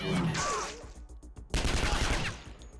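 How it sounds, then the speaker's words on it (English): A loud shotgun blast in the game Skyshine's Bedlam, a burst of gunfire with a sharp attack that recurs in quick succession, heavy low boom and crackling decay over game sounds. "One, one good shotgun blast will do it."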